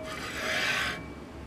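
Carriage of a Prusa i3 MK3S+ 3D printer during assembly, one short dry rasping slide that lasts about a second and is heard close and alone.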